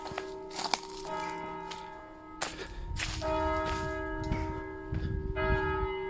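Church bells ring out in a steady peal at a medieval village church with a graveyard, overlapping tones sustaining and repeating, with some background noise underneath.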